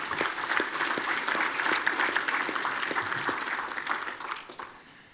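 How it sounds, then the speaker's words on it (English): Audience applause welcoming a panelist at a payments conference, brisk clapping with distinct individual claps standing out, steady for about four seconds before fading away near the end. "Give her a big round of applause and welcome to the stage"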